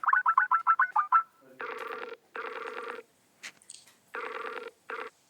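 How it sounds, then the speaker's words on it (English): A Skype call rings with a quick series of bright electronic chirps, then several longer warbling tone bursts separated by short pauses, clear and close with no talk. "So I decided to Skype Professor Cynical in Zambia."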